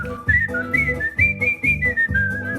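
A person whistles a bright, wavering melody alone, with clear sustained notes that glide and warble between pitches over a low rhythmic accompaniment, up close and loud.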